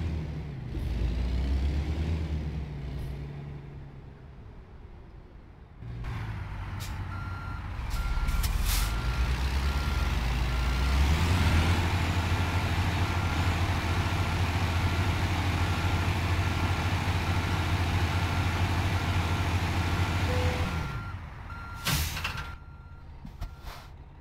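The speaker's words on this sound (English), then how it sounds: "this game has amazing trailer pickup noise" A Kenworth W900 semi in American Truck Simulator picks up a trailer: a loud diesel rumble and idle, reversing beeps, then the thump of the coupling and a hiss of air brakes near the end.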